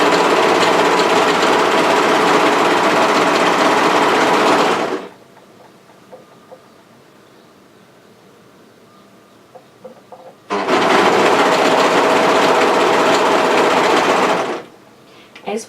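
A sewing machine runs loud and close along a hoodie side seam in two long bursts of rapid, steady stitching, separated by several seconds of near quiet with small handling noises.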